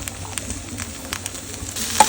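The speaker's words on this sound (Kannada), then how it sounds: "ಸೊ ಅಷ್ಟೇ, 2 ಮಿನಿಟ್ಸ್ ಫ್ರೈ ಆಯಿತು" Broccoli frying in butter in a pan, a soft continuous sizzle with light crackles and a few stirring scrapes, near and moderately quiet.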